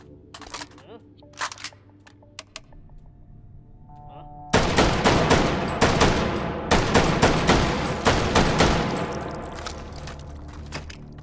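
Semi-automatic gunfire in H3VR rings out in quick separate sharp cracks, a few faint shots at first, then a loud burst of rapid single shots with clicks between them.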